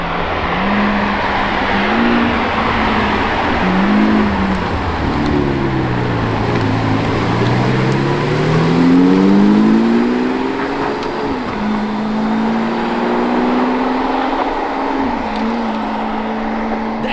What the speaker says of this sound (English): the glorious V12 engine